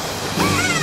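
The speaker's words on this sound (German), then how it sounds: "eine Riesenwelle" A huge ocean wave surges onto a beach in a brief, close rush of wash and spray that swells partway through the moment.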